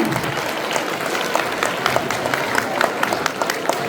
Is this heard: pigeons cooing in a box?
no